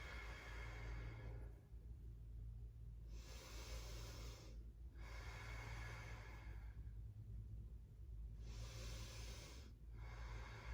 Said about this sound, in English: Breath out.